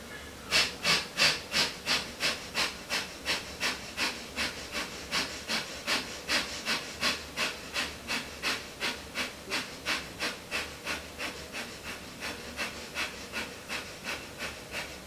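Breathing during a yin yoga class: a long run of quick, evenly spaced breaths, each a soft breathy hiss, close and clear with no talk.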